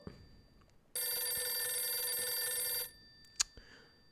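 A telephone rings in the video game Last Window: one sustained, bright electronic ring lasting about two seconds, loud against near silence, followed by a couple of faint clicks.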